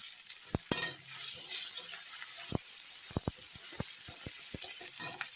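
Ginger paste and green chillies fry with vegetables in a pan: a steady close sizzle with scattered sharp clicks and scrapes from stirring, and no voices.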